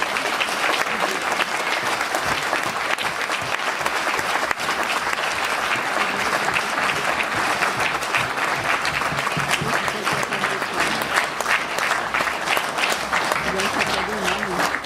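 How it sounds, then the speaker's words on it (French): A concert audience in Bagnères-de-Luchon applauds at the end of a show, a dense, steady wash of clapping that holds loud and even from start to finish, with no voices standing out above it. "on vous demande d'applaudir encore une fois, Sylvain."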